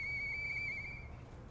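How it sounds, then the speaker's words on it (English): A steady, high whistle with a clean tone sounds in the Lies of P video game, holding for about a second before it cuts off, over a low rumbling background. "I know that whistle."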